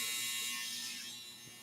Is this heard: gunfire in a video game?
no